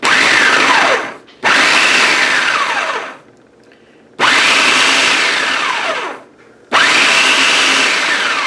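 Food processor pulsing butter into flour for rough puff pastry, four loud bursts of whirring motor with a rising and falling blade whine, separated by short pauses.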